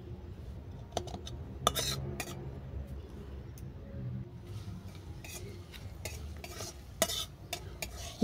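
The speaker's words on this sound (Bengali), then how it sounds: "দিলাম শুকনো লঙ্কা আর জিরে। এটাকে আমি ভালো করে ভেজে নেব।" Dried red chillies and cumin fry in mustard oil in a wok, giving a steady low sizzle broken by sharp clinks and scrapes of a spatula stirring against the metal, with no talking.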